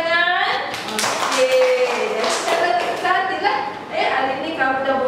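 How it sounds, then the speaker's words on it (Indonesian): A few children clap their hands in quick, uneven bursts during a classroom phonics lesson, with children's and a teacher's voices chanting and talking over and between the claps. "Tepuk tangan"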